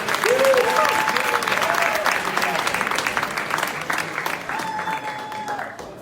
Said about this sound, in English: And so a big applause for warming the audience, and warm welcome to David.